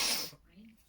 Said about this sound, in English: Sorry guys, I need to like sneeze, hold on.